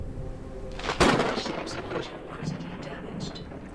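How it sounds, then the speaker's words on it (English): A lightning strike in the video game Forever Skies: a loud, sudden crack lands about a second in, followed by a rolling thunder rumble that fades over the next few seconds, with no talking over it. "and I got hit by lightning."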